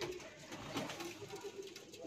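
A breeder pigeon coos softly and steadily, faint and close, against a low background hum.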